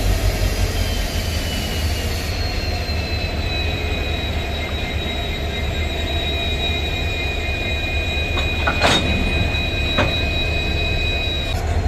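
A heavy train hauled by three WDP diesel locomotives rumbles steadily with a deep engine drone and faint high whining tones, with a few sharp metallic clanks near the end.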